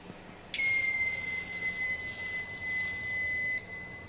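An Arduino LPG gas and flame detector buzzer sounds a steady electronic alarm tone continuously for about three seconds, loud and piercing, with faint background noise before it starts.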